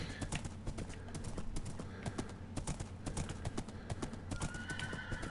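Steady clip-clop of horse hooves trotting at an even rhythm in Minecraft, fairly close and continuous, with a brief whinny-like tone near the end.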